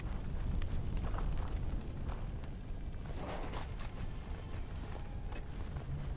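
Explosion in the video game Fallout 4, a broad rumbling eruption with a dense low roar that holds steady throughout at moderate loudness, with no talking over it.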